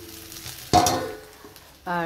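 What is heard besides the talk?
potatoes and eggplant frying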